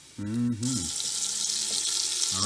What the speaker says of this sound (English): the beef's in, you hear it sizzling